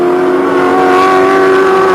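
A Holden Commodore and a Nissan touring car race on track in the 1986 Australian Touring Car Championship, a loud sustained engine roar with steady pitched tones filling the whole clip, no voices.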